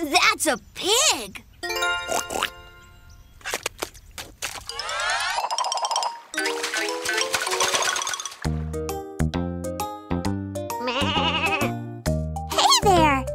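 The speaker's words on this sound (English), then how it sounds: "That's a sheep." Playful cartoon-style sounds with a sheep bleating among boings and tinkly musical notes, over a busy mix of voices and tones.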